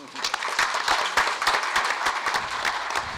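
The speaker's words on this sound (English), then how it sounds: "she needs a good round of applause also" An audience at a symposium on changes in Narragansett Bay breaks into a round of applause, dense steady clapping from a roomful of people lasting a few seconds.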